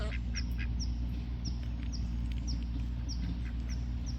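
A backyard homestead duck quacks repeatedly in short, evenly spaced calls over a steady low hum, moderately near and clear, with no voices.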